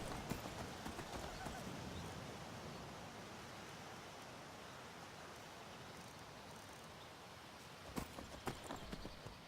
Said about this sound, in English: Carriages.